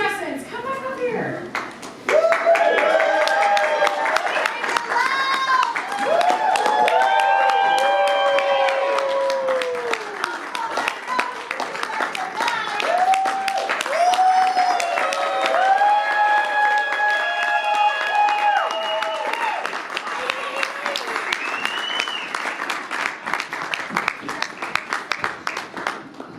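Audience at a convention costume contest, clapping and cheering for the contestants on stage, with loud sustained applause, whoops and children's voices throughout.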